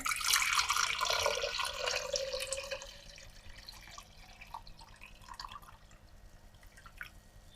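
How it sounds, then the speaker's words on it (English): Water pours into a glass cylinder, a bright splashing rush for the first few seconds that fades into faint drips and trickles, near and with no talking. "you're going to get your cylinder or your glass, and you're going to pour some water."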